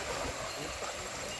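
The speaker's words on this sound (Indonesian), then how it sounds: "Kita menyeberang sungai lagi nih." A shallow river flows steadily during a crossing on foot near papaya plantations and rice fields, a soft continuous broadband rush of water heard close, with no voices.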